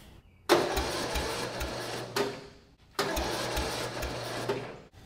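Lawn tractor engine cranking slowly on a weak battery, two sustained grinding starter bursts of a couple of seconds each, close and loud, separated by a short pause, with a faint low hum underneath.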